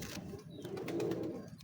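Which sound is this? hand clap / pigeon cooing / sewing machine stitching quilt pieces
pigeon cooing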